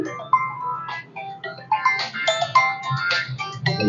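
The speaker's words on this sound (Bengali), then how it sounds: "ফোনটা বাজতেছে, ফোনটা একটু ধরো না" A mobile phone ringtone playing a bright electronic melody of short tonal notes, fairly loud and close, with no voices over it.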